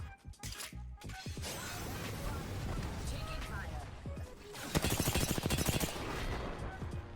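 Rapid gunfire from an Apex Legends match, dense bursts of shots and impacts throughout, with a louder, faster volley near the end, mixed with game effects.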